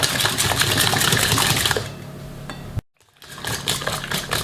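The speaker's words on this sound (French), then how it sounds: "On vient mélanger le sucre et les œufs." Sugar and eggs are beaten together for a chocolate almond cake, with a loud, continuous mechanical whirring that drops in level partway through. It cuts out briefly, then resumes.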